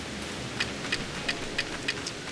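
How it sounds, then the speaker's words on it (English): Steady rain falls in Pokémon Legends: Arceus along the Cobalt Coastlands, a constant hiss of broadband noise with faint drips and light tapping accents recurring every few tenths of a second, no talk over it. "it's raining."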